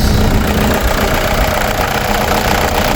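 2015 Toyota Innova engine idling steadily after a new timing belt and tensioner were fitted, a loud close, continuous even rumble with no breaks and no talking.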